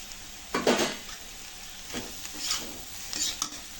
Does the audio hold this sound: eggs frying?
yes